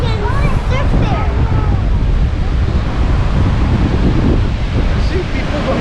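Strong wind buffets the microphone on a beach in Baler, Philippines, a loud, constant roar with surf rumbling underneath and brief talk near the start.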